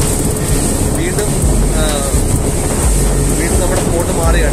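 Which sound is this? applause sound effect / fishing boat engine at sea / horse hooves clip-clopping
fishing boat engine at sea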